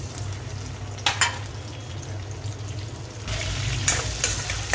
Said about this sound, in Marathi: टोमॅटो थोडे मी फ्राय करतो